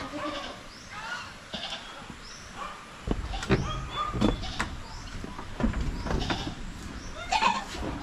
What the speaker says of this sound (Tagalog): Relaxing lang kayo yung mga kambing natin dito